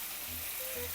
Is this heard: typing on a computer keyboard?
no